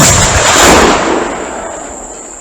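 A historic cannon fires a half-pound charge of gunpowder with a massive, loud boom that rolls out and slowly fades over a couple of seconds, with a high steady whine beneath.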